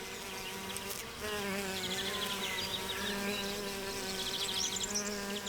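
Bees forage among flowers in the Swiss Jura Mountains, their close, steady buzz rising and wavering as they move from blossom to blossom, with no talking.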